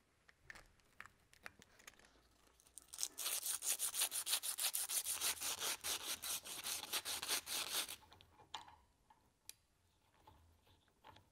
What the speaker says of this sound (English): Clean the shaft of paint and dirt.